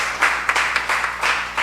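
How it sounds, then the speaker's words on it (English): Brief burst of applause from an audience at a Tobago community conversation in a multi-purpose facility, cheering the candidates; dense broadband clapping with a few sharper swells. "Give all of them another lusty round of applause."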